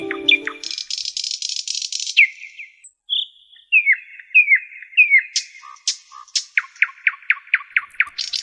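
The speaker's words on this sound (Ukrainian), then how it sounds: "Соловейко тьох-тьох-тьох, потанцюємо удвох." Nightingale song in a spring music lesson for young children: varied whistles and trills, then a rapid rhythmic series of sharp repeated chirps, clear and close, with no talk over it.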